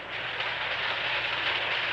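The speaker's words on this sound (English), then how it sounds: "Was Dad showing you how to run your train, darling?" A 1930s toy electric train runs steadily with a continuous dense rumbling whir and rattle, loud and even throughout, with no voices over it.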